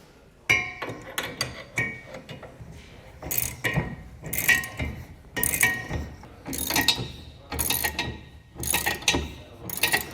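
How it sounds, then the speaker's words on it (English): A hand ratchet tightens bolts on a Curt A20 fifth wheel trailer hitch, a rapid series of close, loud clicking bursts repeated at steady intervals with short pauses between strokes. "you can tighten it down and torque it to the specifications found in your instructions."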